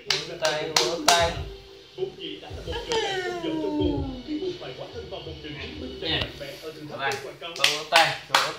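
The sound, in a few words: baby clapping hands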